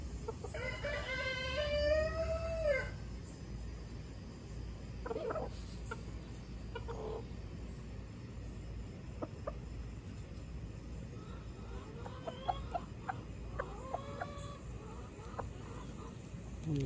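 A rooster with ornate fringed plumage gives a crow and scattered clucks, fairly faint over a steady background hiss, with a few later short calls and a voice in Spanish faintly present.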